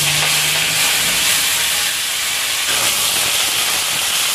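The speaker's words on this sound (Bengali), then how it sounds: "তেল গরম হয়ে গেছে, মাংস রান্না করার জন্য পেঁয়াজটা দিয়ে দেব।" Onion dropped into hot oil for a meat curry, giving a loud, steady sizzling hiss that fills the whole stretch without pause.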